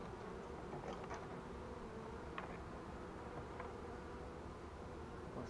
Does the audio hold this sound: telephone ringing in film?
no